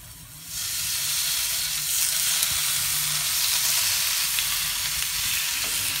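Slices of pork belly for samgyupsal fry in a pan with a steady, close sizzle. The sizzle starts a bit softer, then holds loud and even from start to finish with no talking.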